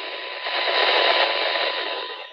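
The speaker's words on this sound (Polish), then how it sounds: "Duży szum, ale sygnał jeszcze jest słyszalny." Radio receiver tuned to a weak 433 MHz signal, a steady wash of heavy broadband static hiss that swells slightly and holds for a couple of seconds, with no voices over it.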